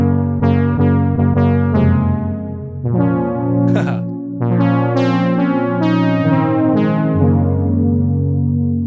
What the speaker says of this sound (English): Just a really great studio quality plate reverb.